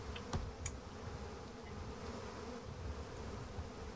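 A steady, close insect buzz of bees drones continuously in the Massive Chalice game, with a couple of faint clicks near the start and no talking.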